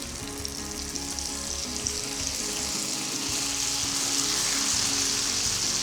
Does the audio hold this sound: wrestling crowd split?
no